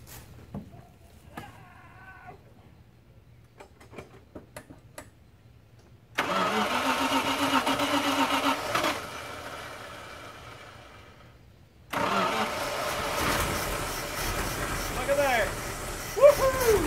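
A 1979 Dodge W300 Club Cab truck that has sat for 13 years is cranked in two long, loud, sustained bursts, following a quiet stretch with a voice and a few faint clicks.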